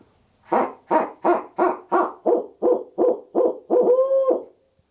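A barred owl hoot imitated on a hand-held Harrison Hooter owl call: about ten loud, close, evenly spaced hoots in a steady rhythm, ending in one longer wavering hoot, with no talk.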